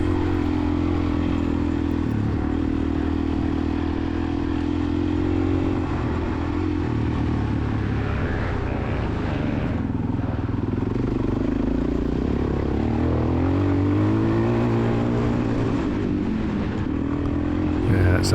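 A Suzuki DRZ400E dirt bike engine runs steadily in third gear during a cross-country race, a continuous close drone that rises and falls slightly in pitch with throttle changes throughout.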